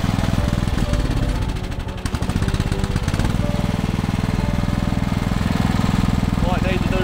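A lawn mower engine runs steadily up close, a loud continuous motor drone with a brief dip near two seconds, while people talk over it.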